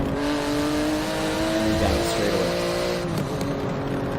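A Porsche 911 GT2 RS in Forza Motorsport, lapping Road Atlanta, its engine pulling hard uphill with a steady rising whine and a pitch shift at an upshift, loud and continuous as someone briefly talks.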